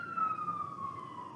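An emergency siren outside wails in a single falling sweep, moderately faint and distant, heard briefly on its own without talk.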